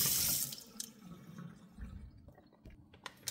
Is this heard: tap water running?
yes